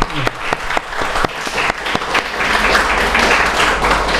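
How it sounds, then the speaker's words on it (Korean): A church congregation applauds a young man, Ko Tae-young, after his special song at a church's third anniversary service, a dense, steady wash of many hands clapping that swells and holds loud throughout. "고맙다고 박수 한번 하겠습니다."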